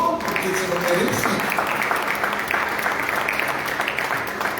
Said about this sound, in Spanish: Pues dale un aplauso al Señor porque se lo merece.